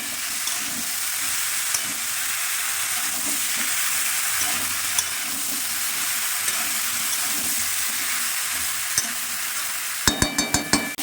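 Ginger-garlic paste and onion paste fry in oil for a koi fish curry, a steady close sizzle running throughout, ending in a quick burst of sharp metallic clinks.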